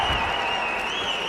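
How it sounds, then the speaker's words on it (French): Boxing crowd at the Centre Bell arena in Montreal cheering and applauding during a fight, a dense, steady roar of applause and crowd noise filling a brief moment. "La foule s'anime ici au Centre Bell."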